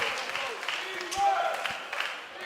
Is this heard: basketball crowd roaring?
yes